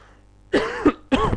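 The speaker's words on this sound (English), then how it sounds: "Excuse my coughing." Two sharp, close coughs in quick succession after a quiet moment, the first slightly longer and rougher than the second.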